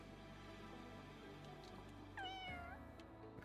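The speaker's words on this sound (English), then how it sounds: "Oh, it's a cat. That's a cute cat." Cat meowing in the video game Fire Emblem Engage, a single short meow near the end over steady game music and ambience.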